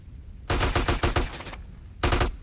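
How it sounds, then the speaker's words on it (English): Enemy gunfire in Grand Theft Auto: San Andreas comes as two loud bursts of rapid shots, the first longer and the second brief after a short gap. "I don't know where the shots are coming from."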